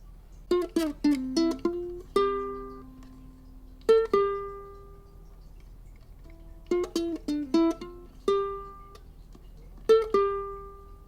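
A plucked ukulele plays a short, bright melody at a brisk tempo, each phrase ringing out briefly before the tune repeats.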